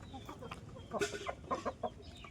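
Rhode Island Red hens and roosters cluck in a few short, soft bursts over a hissy farmyard background.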